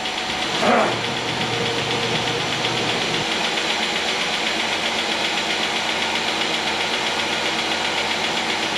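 A rebuilt 3400 car engine runs in a shop after final assembly, a steady close idle with a brief louder catch early on and a continuous mechanical drone throughout.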